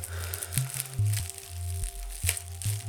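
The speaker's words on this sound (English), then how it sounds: "we're going to have to break out some scissors" Crinkly tearing and crunching as scissors cut black packing tape on an Orona elevator call button panel, in short irregular bursts, close by, over a steady low hum.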